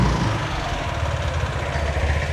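A Vespa GTS 250 scooter engine, freshly valve-adjusted and hot, idles steadily and close by with an even low throb and a faint variator knock, no voices over it.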